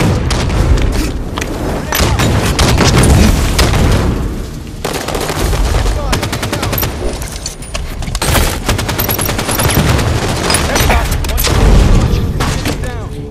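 Dense, continuous gunfire and explosive booms from a Halo 5: Guardians multiplayer beta match, loud and close, with rapid bursts of shots and heavy thuds going on almost without a break.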